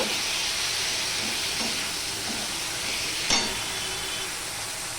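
Chopped tomato hits a pan of hot garlic and sizzles with a steady hiss. A single sharp clink of stirring cuts through midway.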